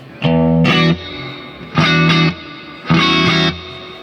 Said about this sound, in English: So that's just a basic clean tone from just a little bit of reverb